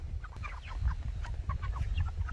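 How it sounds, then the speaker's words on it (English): Chickens inside a coop give soft, scattered clucks and short calls, several birds close by over a low background rumble. "So I'm going to climb into the chicken coop."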